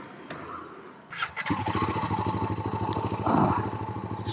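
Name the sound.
Royal Enfield Himalayan motorcycle setting off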